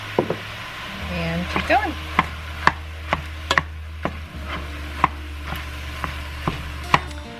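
Ground turkey browning in a pan, with a spatula tapping and scraping in sharp, regular knocks over a low steady hum. A person says a few words.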